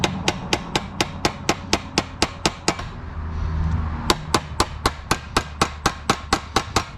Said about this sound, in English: I need a small hammer to make that go in